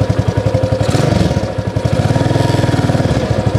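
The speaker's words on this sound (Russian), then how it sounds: "вот сейчас мотоцикл на нейтрале" A Scout-9 motorcycle from Izhtekhmash idling steadily in neutral, its low rhythmic putter close and loud, with a slight rise in revs partway through.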